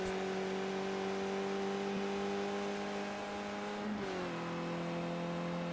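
Sustained race car engine drone in a racing video game at Circuit Zolder, a steady loud harmonic whine held high before dropping in pitch around a chicane, with no voices over it.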